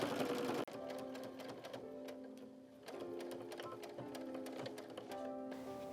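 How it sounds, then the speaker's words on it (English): A sewing machine stitches a quarter-inch quilt seam with a steady, fairly quiet whir, a short louder burst at the start and a few slight pauses and changes in pace along the row. "sew this seam with a 1/4 inch seam allowance, reversing at the beginning and end of this row"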